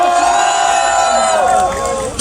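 Outdoor political rally crowd in Cheongju on a cold Saturday, roaring and cheering in a sustained loud wall of voices with shouting, the din holding steady before easing slightly near the end.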